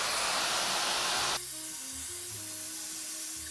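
A Lux hair styler, an affordable alternative to the Dyson Airwrap, blows on its highest heat setting as a steady loud airflow hiss, dropping to a lower, softer whir partway through with a faint motor hum.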